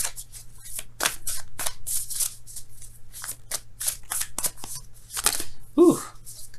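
Tarot cards shuffled and handled during a love reading, giving a run of crisp riffling bursts and flicks with a steady low hum underneath, ending in a short bend-and-grip sound near the close.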